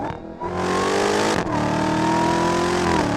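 A Dodge Challenger Hellcat Redeye Widebody, a 2019 model, revs hard under full throttle with rising engine pitch. There is a brief dip at a gear change, then the pull climbs again. Loud and close, with no talking.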